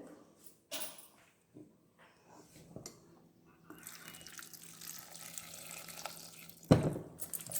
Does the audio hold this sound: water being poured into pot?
yes